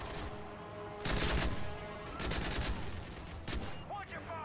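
Bursts of gunfire ring out in Call of Duty Modern Warfare 3 Spec Ops, a few sharp volleys and rapid shots over game ambience, with some player chatter mixed in.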